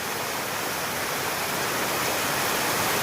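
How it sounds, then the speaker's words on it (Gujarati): Heavy monsoon rain pouring down during flooding around a house, a dense, steady roaring hiss with no break, loud and close. "ખતરનાક વરસાદ છે આ વર્ષનો તો ભાઈ."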